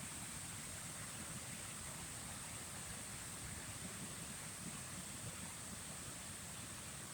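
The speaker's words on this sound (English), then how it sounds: "Hearing the river in the distance" A river flowing in the distance: a faint, steady, even hiss of running water with no other sounds and no voices.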